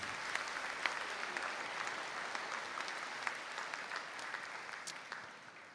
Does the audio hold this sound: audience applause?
yes